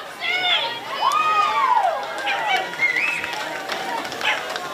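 A women's football crowd cheers and shouts as the Eastern Devils and Whitehorse sides run out onto the ground, with excited voices, whistles and calls rising steadily over several seconds.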